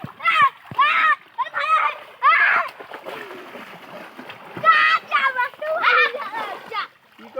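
Boys strike the water trying to catch a fish, making repeated sharp splashes mixed with excited children's voices shouting close by.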